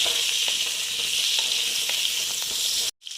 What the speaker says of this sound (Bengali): এগুলোকে আমি ভেজে নিচ্ছি ভালো মতন ভেজে নিচ্ছি